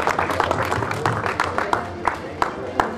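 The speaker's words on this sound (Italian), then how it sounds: "Un grande applauso per noi." Crowd applauding a finish-line announcement at the Ascoli Xtreme Trail 2019 race, steady outdoor clapping with sharper individual claps poking through, under a muffled announcer voice.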